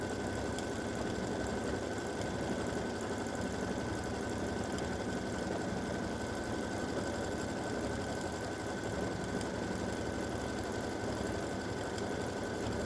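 An embroidery machine stitches an edge-to-edge quilting design at reduced speed, a constant dense mechanical whir and buzz that holds steady throughout with no voices.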